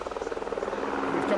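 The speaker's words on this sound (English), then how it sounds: "then there'll be a helicopter taking off by the sounds of it within the next stop." A helicopter lifting off beside a stage of Rally Ceredigion 2023, an asphalt rally in Wales, gives a rapid, steady rotor thudding from a moderate distance, which swells into a denser roar.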